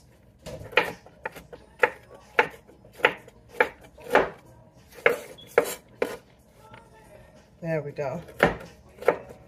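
A knife rough-chops walnuts on a board for brown butter chocolate chip cookies, landing about a dozen sharp, close chops in an uneven rhythm, with a brief scraping sweep near the end and a short spoken remark.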